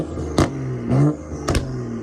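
A TikTok-tuned BMW car accelerating under load, loud engine roar with rising pitch and sharp bursts as it passes by, a brief revving swell in the middle.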